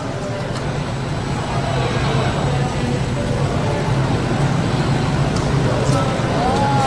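Police motorcycles and cars escorting King Salman's convoy from Halim Perdana Kusuma airport to Bogor make a steady roar of passing road traffic, with a crowd murmuring in the background throughout.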